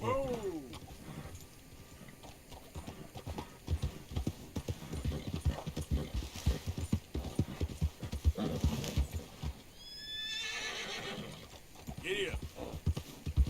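Rhythmic hoofbeats of a galloping horse pound steadily in the Red Dead Redemption 2 video game, close and clear, with a whinny and faint game ambience partway through.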